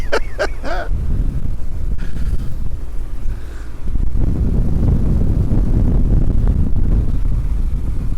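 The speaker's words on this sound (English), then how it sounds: "it's quite windy out here now" Strong wind buffets the microphone outdoors on the coast, a loud continuous low rumble with gusts that swell in the second half, with no talking.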